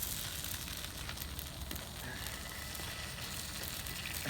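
An egg cooking over easy in a hot pan with avocado toast, giving a soft, continuous sizzle and fine crackle that stays quiet and even throughout, with no voices.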